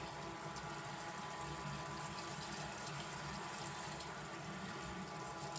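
A faint, steady pour of water into a pan, a soft continuous trickle heard from close by with no voices.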